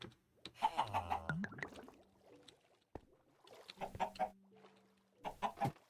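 Chicken mobs in Minecraft cluck in a few short bursts, fairly close, separated by gaps of near silence and faint game noises.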